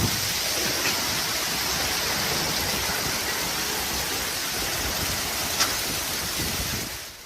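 Heavy rain mixed with hail pours down in Tokyo during an unstable-weather storm, a steady, dense hiss of falling water that stays even throughout and fades at the very end.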